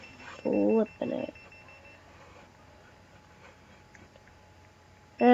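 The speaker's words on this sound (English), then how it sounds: "That's my alarm." An alarm clock goes off in the Roblox game Bloxburg: two loud electronic beeping bursts in quick succession, then a quiet stretch before a third burst starts at the end.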